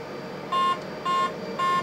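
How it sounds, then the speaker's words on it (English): Warning beep in a Boeing 737-800 flight simulator as thrust goes beyond 40 percent: three short, evenly spaced electronic beeps over a quiet cockpit hum, no talking. "Why is that beeping? Because it's going beyond 40."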